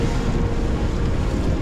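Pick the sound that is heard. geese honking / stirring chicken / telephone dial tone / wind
wind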